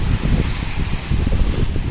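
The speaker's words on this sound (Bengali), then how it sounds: "প্রচুর মেঘ করেছে আর অন্ধকার হয়ে গেছে আর বৃষ্টি পড়ছে দেখো" Rain falls during Cyclone Remal under dark, heavy clouds: a close, continuous hiss of drops with faint gusty rustle, steady for the whole stretch and no talking.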